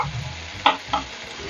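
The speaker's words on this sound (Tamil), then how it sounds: "நல்லா பச்சை வாசனை போகிற மாதிரி நல்லா தக்காளியெல்லாம் நல்லா வதங்கட்டும்" Tomatoes sautéing with chili powder in a pan for an eggplant (kathirikai) masala curry: a low, steady cooking hum broken by two brief scraping stirs, with no talking.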